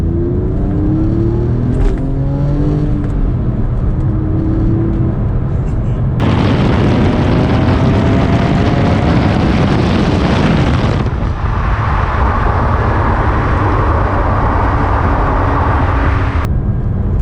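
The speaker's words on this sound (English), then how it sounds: "the difference between the Aston Martin V8 Vantage and this 997 C2 is the Aston makes more noise. This makes quite a bit of noise" A 2005 Porsche 911 997 Carrera 2S drives on country roads, its engine droning loudly and continuously, then swelling into a harsher, rising roar under acceleration midway before easing back to a steady cruising hum.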